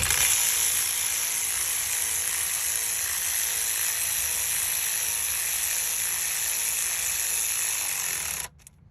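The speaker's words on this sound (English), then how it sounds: "we're just going to go ahead and start tightening them one by one" Bolts on the front engine mount of a Honda Accord 2.4L are tightened with a tool, giving a steady close mechanical whirring buzz that runs unbroken for several seconds before stopping abruptly.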